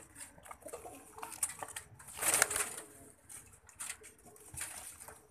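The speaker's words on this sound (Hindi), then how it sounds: "पांच फीमेल हैं और एक बेबी पिजन है।" Five female pigeons and a baby pigeon coo softly in a coop, with faint fluttering and light scratching rustles in the quiet background.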